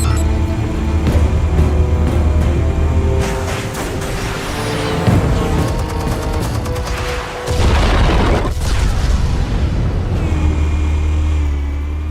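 Explosives detonating in a Batman Telltale video game, loud deep booms and rumbling blasts with crackling debris over a constant low droning background, close and heavy.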